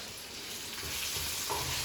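Mustard seeds and curry leaves crackling in hot oil as a tempering for a bitter gourd pickle, a steady close sizzle with a few faint pops and no voices.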